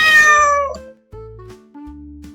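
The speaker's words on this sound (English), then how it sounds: "This is a cat." A cat gives a clear, close meow, and two shorter, softer mews follow after a brief pause.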